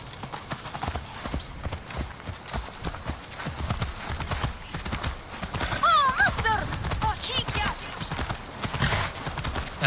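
A horse's hooves clip-clop steadily in the video game Assassin's Creed Valhalla, a continuous trotting rhythm close by with a brief whinny partway through, while people talk over it.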